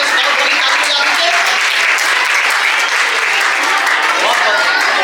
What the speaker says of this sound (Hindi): एक बार स्काउट वाली तालियां दीजिए।